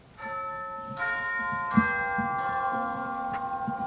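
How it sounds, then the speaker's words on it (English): A clock bell chimes in a staged production of A Christmas Carol, several ringing strikes with long sustained overtones overlapping one another, loud and close with a faint low murmur underneath. "At length, the hour began, and Scrooge counted the chimes"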